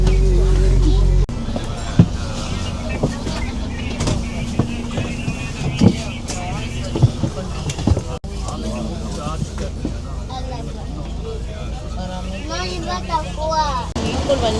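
Riding inside a moving bus on the way to college, with steady engine rumble and road noise throughout while people talk nearby.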